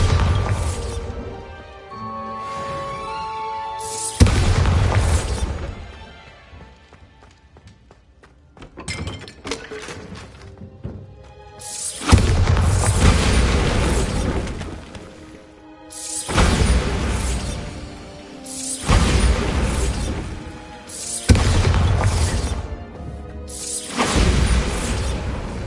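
Bombarda spells go off repeatedly in Hogwarts Legacy as loud explosive blasts with crashing, shattering debris, arriving in several long bursts separated by brief quieter gaps.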